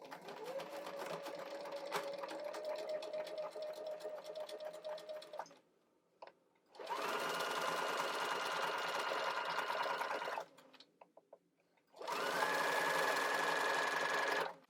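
A sewing machine stitches a seam with an edgestitch foot in three separate bursts of steady, fast whirring hum, each run a few seconds long with brief quiet gaps between, close up and with no talking.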